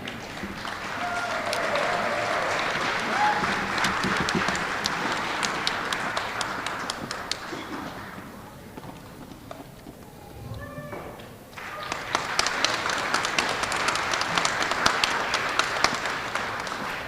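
Applause from an elementary school audience for sixth grade Students of the Month, a dense, steady clapping that thins briefly in the middle before swelling back to full strength.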